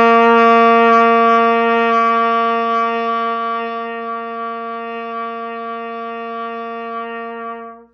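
A trumpet sustains a single open low C, a steady, bright, harmonically rich tone held for about seven seconds. It starts loud, eases gently in volume, then stops cleanly, with no voices.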